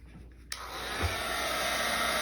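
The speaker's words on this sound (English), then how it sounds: "So I'm gonna use my heat gun to dry it." A click, then a steady, loud blowing whir of a heat gun drying watercolor paint that runs on unbroken, with a high airy hiss on top.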